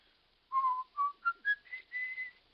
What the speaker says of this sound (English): Why'd you whistle that song so much?